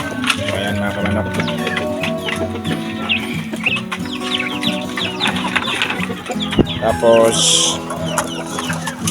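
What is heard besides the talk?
chickens clucking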